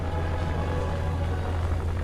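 Steady low engine drone of an idling aircraft in War Thunder, a constant hum with no talk over it.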